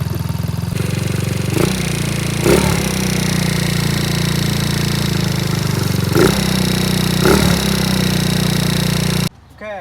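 A Taotao engine idles steadily through a warm-up, with a constant low rumble and harmonic whine, a few brief clattering knocks along the way, and a sudden cut-off near the end.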